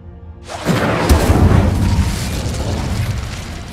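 A fire spell in the video game Hogwarts Legacy bursts into a loud whooshing boom that keeps roaring and crackling for several seconds, with no talk over it.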